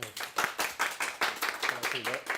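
Audience applause for an author introduced at a Korean book show, rhythmic claps in a steady group pattern at moderate volume, with a voice speaking over part of it.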